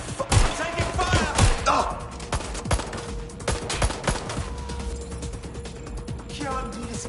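Sustained automatic gunfire and scattered shots in the video game Watch Dogs: Legion, bursts of loud cracks and thuds across the clip, mixed with chaotic game noise and voices.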